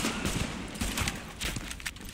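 Rapid automatic gunfire from a weapon in the video game Tom Clancy's The Division, bursts of shots rattling continuously at close range over a busy combat soundscape.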